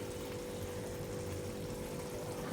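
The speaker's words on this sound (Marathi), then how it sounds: "मला नको होती म्हणून मी अगदी थोडंसं पाणी टाकलं शिजण्यासाठी" A small splash of water poured into chicken keema cooking in a pan, heard as a steady, soft wash of liquid noise with no voices.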